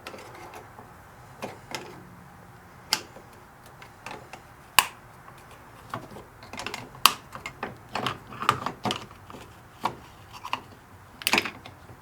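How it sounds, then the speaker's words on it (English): Plastic housing pried off a gear from a car part, heard close up as a string of irregular sharp clicks and snaps with quiet pauses in between. "we're just going to gently pry the rest of it off"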